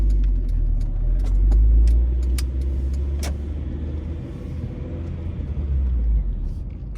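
A car drives through the streets of Philadelphia's Kingsessing neighborhood, with a steady, close engine and road rumble heard from inside the vehicle and a few faint clicks and ticks above it.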